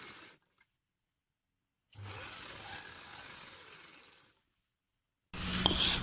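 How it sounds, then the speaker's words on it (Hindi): A sewing machine stitching over a pasted placket at a quarter-inch seam, running in two bursts: a steady two-second whir in the middle after silence, then a louder, rougher run starting near the end. "इसके ऊपर भी हम स्टिचिंग कर देंगे"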